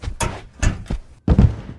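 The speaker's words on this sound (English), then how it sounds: "Close the door." A door handled and shut indoors, several sharp thumps and knocks in quick succession, close and fairly loud, ending in a firmer closing thud.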